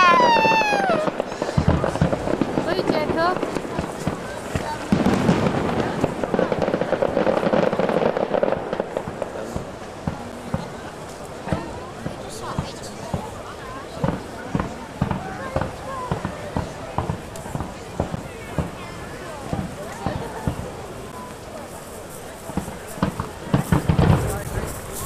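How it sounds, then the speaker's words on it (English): Fireworks in Plymouth bang and crackle in a steady run of sharp pops, loud at first and then spaced out, with people talking and shouting over them. "Listen to the fireworks."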